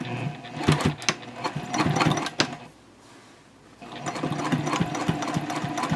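Juki sewing machine fitted with a narrow zipper foot, stitching along piping and backstitching at the ends: fast rattling runs close by, a brief pause of near quiet, then stitching resumes.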